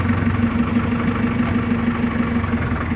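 A old Rover London taxi engine idling steadily and close by, a continuous low mechanical hum with a faint regular throb and no voices.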